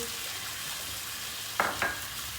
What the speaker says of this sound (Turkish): Salçayı da kavurduk. İçine katacağımız Domatesin biberini atıyoruz.